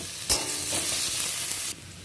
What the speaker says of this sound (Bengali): রসুন পেঁয়াজ লঙ্কাটা আমার ভাজা হয়ে গেছে